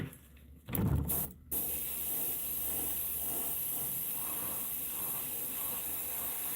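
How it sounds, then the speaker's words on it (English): An airbrush sprays a base coat onto a koi-pattern swimbait lure: a steady, close airy hiss runs throughout after a short louder burst and brief pauses near the start, with no talk. "doing the base coat for the lure. Spraying it on there just a little more heavier."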